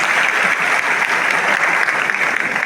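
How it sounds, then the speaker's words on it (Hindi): A large theatre audience applauds a whole team of performers in a continuous, dense, loud wash of clapping that holds steady throughout. "तालियों की कटक ध्वनि इस पूरी टीम के लिए"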